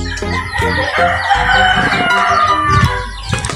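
A rooster crows loudly and close by on a free-range chicken farm, its long call rising over steady clucking from a flock of breeder hens, with no talking.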